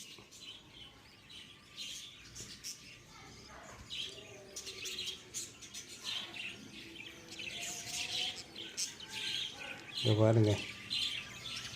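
Lovebirds and budgies chirping in a breeding colony, a steady busy chatter of small tweets throughout with one louder close call near the end, while someone speaks briefly.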